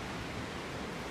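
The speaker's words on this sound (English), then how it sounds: "Here we are at the bottom of the waterfall." Rushing water at the bottom of a Yosemite waterfall: a steady, even broadband roar with no breaks, faint and alone.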